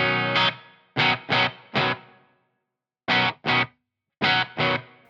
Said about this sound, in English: and then I'm going to leave a room reverb on